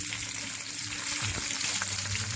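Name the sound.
meat browning in a pan before braising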